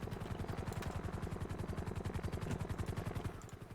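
A toy helicopter whirs with a fast, even rotor chop, rhythmic pulses repeating steadily at a fairly faint, constant level before easing off at the end.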